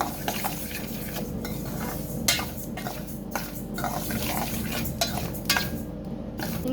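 Two ingredients dry-roasting in a kadai for mango pickle, with scraping stir strokes and clinks of a spatula against the pan over a low sizzle, close and fairly loud, no voices.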